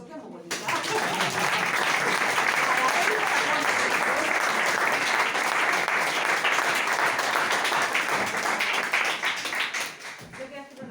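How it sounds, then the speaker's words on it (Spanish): Audience applause at a book presentation for a collection of Madrid stories: clapping breaks out after a brief pause, holds strong and dense for about nine seconds, then fades out. "Vamos a darle un aplauso, que es muy bonita."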